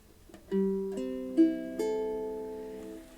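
Plucked ukulele strings ring out one after another from low to high, four notes layering and sustaining together.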